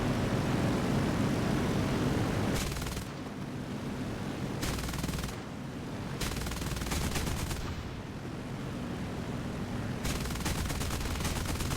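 Aircraft bombing in an air-combat video game: a loud continuous roar of engines and rapid gunfire bursts, cutting in and out in blocks, dense and close throughout with no voices.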